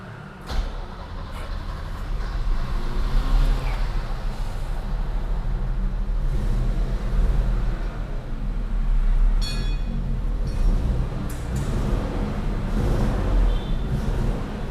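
A Mercedes-Benz W124 runs with no muffler, its exhaust giving a steady, loud, deep rumble that holds for the whole stretch with faint voices in the background.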